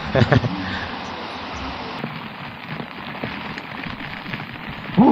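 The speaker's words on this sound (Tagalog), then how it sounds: "Ang lakas ng ulan mga master." Heavy rain pours down during a storm, a dense steady wash of noise heard while sheltering under cover at a mall, with a few louder splashes and knocks near the start and end and no one talking over it.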